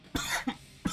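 Three short, sharp coughs from a single person close to the microphone, evenly spaced within a second, with no talking.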